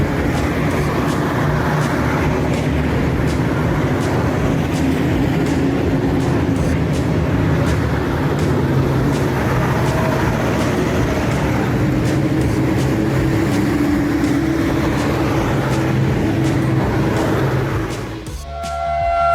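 A train approaching a passenger bus stuck on railway tracks, with a loud continuous rumble of heavy vehicle noise that holds steady before a sudden shift near the end.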